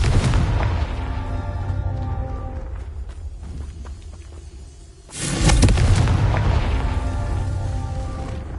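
Confringo blasting spell in Hogwarts Legacy: steady rumbling combat noise dips, then a loud booming explosion bursts near the five-second mark and rolls on as a heavy, sustained roar.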